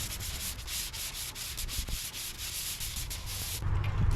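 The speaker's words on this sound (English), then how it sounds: "just take 2 pieces of sandpaper like this, put them on a block, wrap it around" Sandpaper wrapped on a sanding block rasps back and forth over car body filler in steady rhythmic strokes, close and fairly loud, with no talking.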